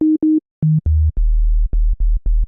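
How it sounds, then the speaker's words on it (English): A pure sine wave synth bass plays a choppy pattern of short, clean notes that step downward in pitch and then repeat on one deep low note in a tight rhythm. The tone is loud and dry, with no voices. "we need to come up with this bass. Sine wave, obviously."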